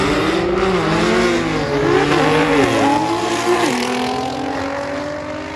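Drag racing car doing a burnout at the Saldanha drags, spinning all four wheels, with a loud, sustained roaring engine and rising and falling revs that dominate throughout, faint crowd noise beneath.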